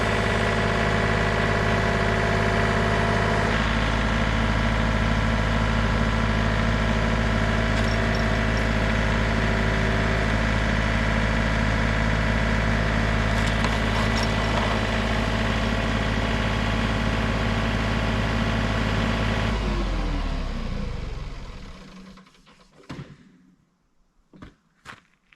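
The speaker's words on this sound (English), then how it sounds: "So the new tractor lifts the old tractor." A 2015 tractor engine runs steadily at a loud, close, droning idle while lifting an older tractor, then winds down and shuts off near the end, leaving faint knocks.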